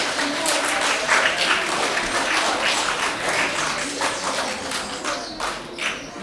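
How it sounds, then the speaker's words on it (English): A crowd of primary school children claps together in a sustained burst of fairly loud applause, with some scattered voices mixed in. "Give her a big clap for that,"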